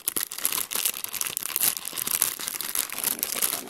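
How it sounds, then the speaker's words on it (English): Crinkly plastic packaging being opened for craft destash items, a steady stream of close, dense rustling and tearing crackles running without pause for several seconds, with no talking over it. "Lots of crinkling. Sorry about that. I just want to open these up."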